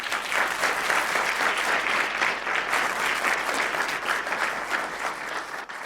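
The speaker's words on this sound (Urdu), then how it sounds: "آؤ یسوع کے لیے زوردار تالی بجائے۔" A church congregation bursts into loud, sustained applause for Jesus during an Easter resurrection sermon. The dense clapping continues evenly for about six seconds.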